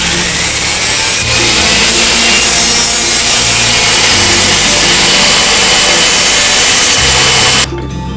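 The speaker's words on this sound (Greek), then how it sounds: "Αφού ολοκληρωθεί η κοπή του ακριλικού της ακριλικής πλάκας" A dental acrylic cutting disc saws steadily through an acrylic plate for a Hawley appliance, producing a loud, continuous, close-up grinding whine that runs unbroken for about seven seconds before cutting off abruptly.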